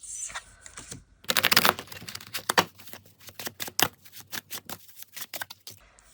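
A deck of oracle cards is shuffled by hand up close. Quick papery riffles and flicks come in irregular bursts, and fainter taps fall between them.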